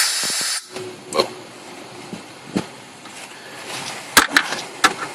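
Compressed air hisses into an engine cylinder of a 1995 Geo Metro during a compression check, a close burst of hiss at the start, then quieter leaking hiss with scattered clicks and taps.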